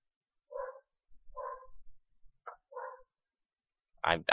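Household dogs barking in short bursts, four separate yaps spaced apart in a quiet room, followed by a louder, harsher bark at the end, with no talking.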